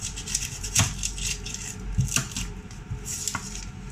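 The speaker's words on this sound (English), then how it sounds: "I'm chopping it on some newspaper." A knife chops food on a layer of newspaper in a student kitchen while making a steak and onion pie, several spaced dull thunks with papery rustling and scraping between strokes, close up, no talking.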